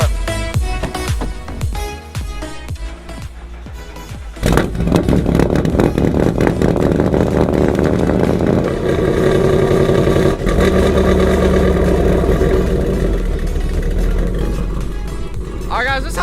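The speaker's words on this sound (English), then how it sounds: "this sounds pretty good, but it does have a missing intake, or air box, so it's having a little bit of a hard time idling." A wrecked Ford Mustang GT engine with a missing air intake box idles roughly and unevenly, a loud, close, steady rumble running beneath talking.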